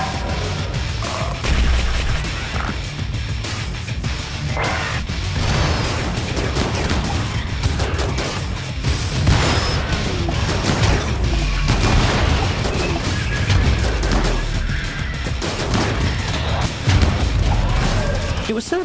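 Repeated explosions from Boomrats detonating in the colony game RimWorld, dense booming blasts like a mortar barrage rolling continuously under game noise, with talk running over it throughout.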